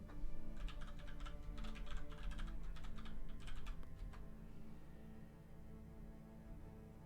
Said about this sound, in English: use the keyboard shortcut to access the task manager directly